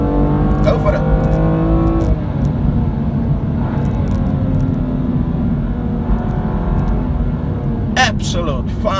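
A BMW M2 Competition engine drones loudly and steadily while driving, with a pitch shift partway through, under someone talking.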